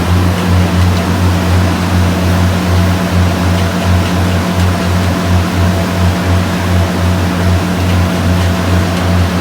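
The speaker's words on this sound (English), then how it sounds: "The conveyor belt is moving at a decent clip to keep up with how powerful the vacuum is in the front." A LORAM RailVac LRV-3 ballast vacuum at Oakdale runs with its conveyor belt, a loud, steady, pulsing mechanical drone with heavy low rumble and broad roaring noise, unbroken throughout.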